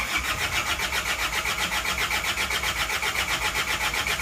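Isuzu Panther 2.3 diesel engine being started, a dense continuous mechanical clatter and rumble that holds steady and loud throughout with no speech over it.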